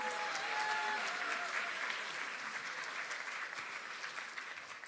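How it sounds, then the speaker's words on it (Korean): Steady applause from a large audience at the Democratic Party of Korea's 70th founding anniversary ceremony, welcoming advisers, lawmakers and party members, a continuous dense clatter of clapping across the hall, easing slightly toward the end. "다시 한번 환영의 박수 부탁드립니다"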